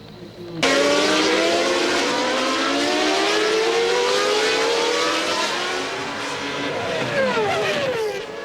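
A 1992 Formula 1 race car at speed in a crash replay, its high engine whine rising and falling through the gears, loud and sustained after a sudden start, with commentary voices under it.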